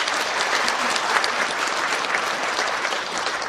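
A large audience claps steadily in a hotel hall, a dense, even wash of applause that fills the whole stretch without pause.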